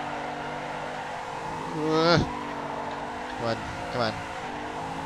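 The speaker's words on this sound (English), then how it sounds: "I'm driving the BMW E30 drift spec. Little handbrake entry right there." BMW E30 drift-spec car in the video game Assetto Corsa, an engine droning steadily, revving hard around a handbrake entry and then giving two shorter blips, with a voice speaking briefly over it.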